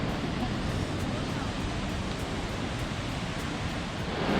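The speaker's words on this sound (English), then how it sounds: "There's the water running away from the falls." Water rushing away below a dark-watered waterfall on a Scottish road trip: a steady, broad, loud roar with no breaks, filling the whole scene.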